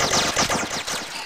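Rapid automatic gunfire in the Roblox video game, a loud, close burst of several quick shots with no talk over it.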